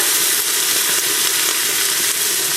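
Clam chowder vegetables hiss loudly in bacon grease in a pan, a dense steady sizzle close up, with no talking over it.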